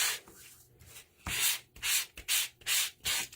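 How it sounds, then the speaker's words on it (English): White-core cardstock embossed with a deep embossing folder is sanded in close, quiet strokes. A few soft light rubs come first, then five or six louder scratchy passes in a steady back-and-forth rhythm. "If you sand on the white core, with these really deep embossing folders, it looks pretty neat."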